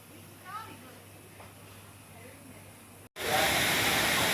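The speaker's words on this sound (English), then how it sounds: "There's the waterfall, pretty noisy." A noisy waterfall in an old town in China cuts in abruptly after a quiet stretch with faint voices. It becomes a loud, steady rush of water that fills the last second or so.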